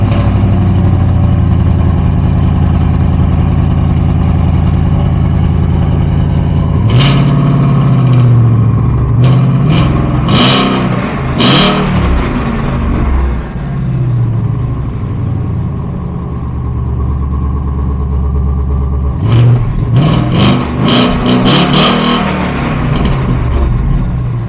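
A modified Ford Mustang GT with resonator delete, straight pipe and Roush exhaust rumbles at a deep, loud idle, punctuated by sharp throttle blips and revs around the middle and near the end.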